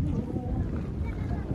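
Strong wind buffets the microphone in a dense, low rumbling roar that continues without a break.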